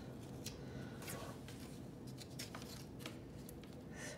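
Scissors snip through a nylon horse halter in a series of close, quiet crisp cuts and rustles over a low background hum.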